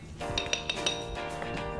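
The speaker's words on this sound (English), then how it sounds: "Throw that in the glass and give it a nice muddle." Cocktail ingredients are muddled in a glass, a quick run of bright clinks and taps against the glass over a faint background hum, close by.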